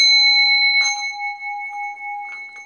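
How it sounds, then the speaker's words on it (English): A Tibetan singing bowl rings with a sustained, pure metallic tone that hangs steadily, with a couple of soft taps or rubs brushing against it. "This is a Tibetan bell, a ringing bowl."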